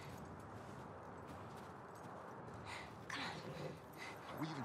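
Horse hooves clip-clopping in The Last of Us on PS5, a soft steady plodding gait with faint snorts, quiet and distant-sounding over low ambient noise.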